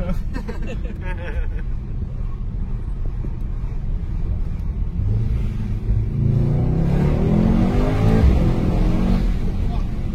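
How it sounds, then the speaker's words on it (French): Mercedes-AMG GT saloon engine revving in steady rising pulls, with a louder surge toward the end that may carry turbo decompression; people talk over the engine noise. "t'entends la décompression du turbo?"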